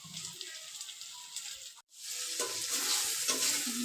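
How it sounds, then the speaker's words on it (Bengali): Spices sizzle and crackle loudly in hot fish oil in a pan, a dense continuous frying hiss broken by a brief pause before resuming. "মশলাগুলো ভাজা হচ্ছে"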